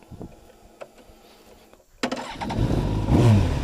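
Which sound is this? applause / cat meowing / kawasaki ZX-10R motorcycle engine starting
kawasaki ZX-10R motorcycle engine starting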